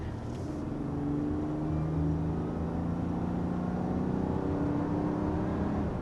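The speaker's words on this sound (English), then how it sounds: "Makes good noise too, like it has just a nice refined and confident exhaust note" A 2023 Volkswagen Atlas Cross Sport with a 2-liter turbocharged four-cylinder gives a smooth, steady, refined exhaust drone, a constant low hum with faint engine whir and no talking over it.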